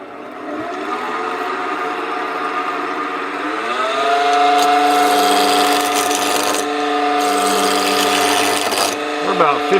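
A wood lathe turns a birdhouse at about 1,500 RPM with a steady whine that rises in pitch as the speed comes up. Tool-on-wood rasping and scraping carries over it, close and continuous.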